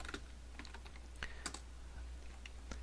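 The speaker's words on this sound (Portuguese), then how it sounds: "Então a gente vai digitar alguma coisa" Irregular clicks of a computer keyboard being typed on, scattered keystrokes over a low steady hum, quiet and close with no talk.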